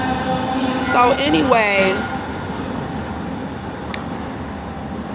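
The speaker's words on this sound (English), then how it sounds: "let this train go by because they just keep coming on by making all this noise" A short train rolls past on nearby tracks, a loud rumbling rush that peaks briefly before a steady background roar carries on, with someone talking over it.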